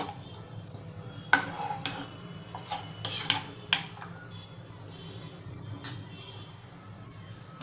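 A spoon clinks and scrapes against a pot in irregular strokes while Malvani-style mutton curry is stirred, fairly soft, over a quiet low background.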